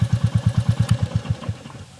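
A Royal Enfield Meteor 350 fitted with a DNA air filter idles close by, its single-cylinder exhaust thumping in a steady, even rhythm of regular pulses.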